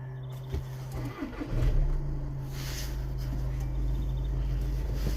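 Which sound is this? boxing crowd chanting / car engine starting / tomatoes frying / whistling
car engine starting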